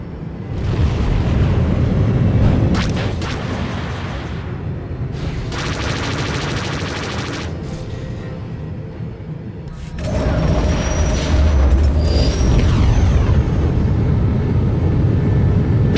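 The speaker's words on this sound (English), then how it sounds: "Brace for missile impact." Missiles strike a starfighter in a SWTOR Galactic Starfighter space battle, a series of loud booming impacts and crackling explosions over a continuous engine roar. A fresh heavy burst lands about ten seconds in.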